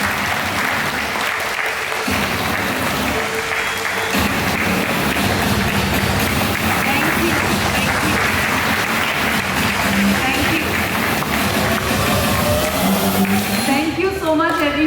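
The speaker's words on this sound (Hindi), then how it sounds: "आइए आप सबकी जोरदार तालियों के साथ स्वागत करते हैं शुभांगी" Audience applause fills a hall as a speaker is welcomed at a talk on reversing diabetes, loud and sustained for about fourteen seconds with a steady dense clatter of clapping.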